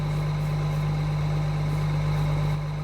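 Tractor engine idling in a farming video game, a loud steady low drone with a constant hum, close and unbroken throughout, no voices over it.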